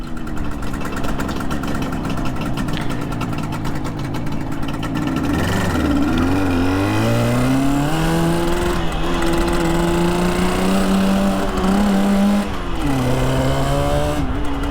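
A cold 1966 Suzuki 150 two-stroke motorcycle engine runs close by with a raspy, buzzing idle, then revs up and down through several rising and falling pitch sweeps, loud and continuous with no talk.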